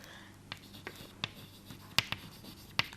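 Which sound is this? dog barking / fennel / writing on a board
writing on a board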